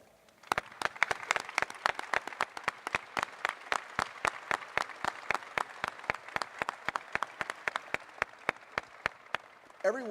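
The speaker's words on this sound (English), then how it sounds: "please stand and let's give them a round of applause" An audience applauds the coaches at a Maryland athletics press conference, with steady rhythmic clapping from a modest crowd lasting about ten seconds, and a brief voice at the end.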